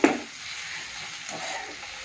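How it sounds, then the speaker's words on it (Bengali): Onions frying in a pan for potol posto, a steady close hiss of sizzling oil with a brief clatter of stirring at the start and another soft stir partway through. "পটল পোস্তর জন্য পেঁয়াজটা ভাজছি"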